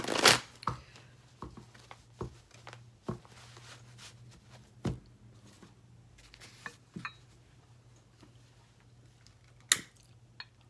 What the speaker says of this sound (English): I'm gonna go ahead and shuffle the decks a few times